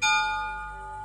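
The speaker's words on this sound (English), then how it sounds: "It just thrills my soul when I hear that bell ring." A bell struck once, its bright metallic tone ringing out loud and clear and then sustaining with a slow fade, heard alone.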